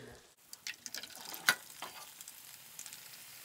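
Boondi batter frying in hot oil for Diwali sweets, giving a soft crackling sizzle with a few small ladle clinks and a brighter clink near the middle, faint and close, no voices.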